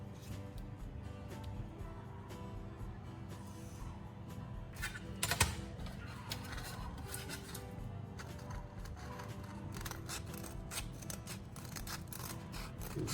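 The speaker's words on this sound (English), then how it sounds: "Mark the length and cut a straight strip of sandpaper in a long rectangle." Scissors cut a strip of 320 grit sandpaper with continuous quiet snipping and rasping. The sound stays steady and close throughout, with a slightly louder cut near the middle.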